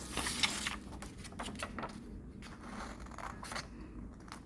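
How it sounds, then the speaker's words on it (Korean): Scissors cutting a square paper template, a series of quiet crisp snips and paper rustles at an irregular pace, close but faint, with no talking. "선생님이랑 함께 가위질을 시작해 봅시다. 천천히 가위 날카로운 부분 조심하면서 가위질을 해볼게요."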